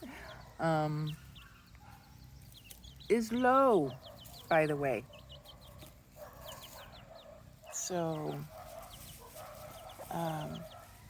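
Free-range hens in a wild garden cluck and squawk in short bursts several times, fairly close, while a person talks quietly in between.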